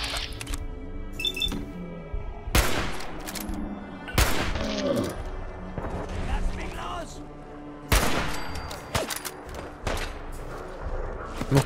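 Gunfire in Fallout 4: several loud, sharp shots ring out at irregular intervals with a clinking, shattering edge, amid game ambience and a voice talking.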